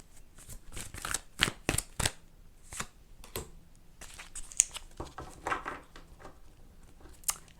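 A tarot card deck being shuffled by hand, with repeated crisp riffling bursts and soft slaps of cards at an uneven rhythm, close and fairly quiet, with no voices.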